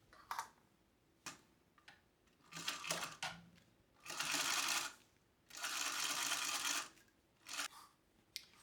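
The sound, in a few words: sewing machine top stitching a wallet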